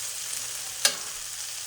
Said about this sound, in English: This nice and sizzle sound.